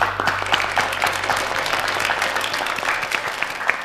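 Applause from a congregation inside an evangelical church for the deaf, steady and dense clapping that fills the room for several seconds with no voices over it.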